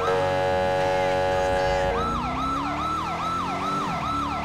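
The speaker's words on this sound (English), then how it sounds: "This siren sounds so good in the city with the echo and stuff." A loud video-game police siren wails in rapid, repeating up-and-down sweeps, echoing in a city, close and continuous, layered over steady engine and traffic noise.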